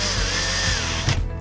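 A power drill whirs loudly at close range while tightening screws on a Latch.it keyless RV door lock, a short steady run that ends with a brief clunk.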